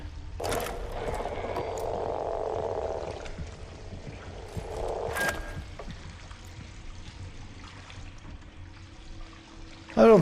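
Water pours and trickles in the horror game Routine, with two soft splashing bursts amid mechanical ratcheting and a quiet, hollow ambient hum, closing on a brief sharper sound.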